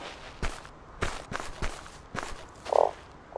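A frog croaks in the survival video game Starsand, one short tonal croak near the end following a series of soft rhythmic footstep thuds, no voices.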